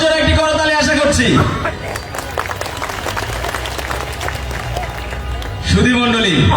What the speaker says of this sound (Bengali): সবার কাছ থেকে সজোরে একটি করতালি আশা করছি।